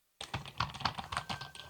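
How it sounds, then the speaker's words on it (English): Quiet, soft keystrokes on a 2.4G wireless ergonomic keyboard with a palm rest, a close, steady patter of about a dozen taps starting after a moment of silence. "quiet and soft typing with the ergonomics for your palms to rest on the keyboard"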